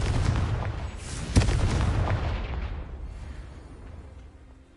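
A Confringo fire spell explodes in the Hogwarts Legacy video game, a loud booming blast with a sharp crack partway through, then a long rumbling tail that fades away.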